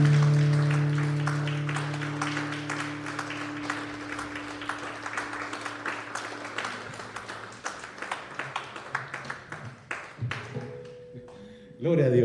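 Congregation applauding during a Spanish-language evangelical church service, dense sustained clapping that thins toward the end, with a held organ or keyboard tone underneath at first and a voice briefly speaking near the close.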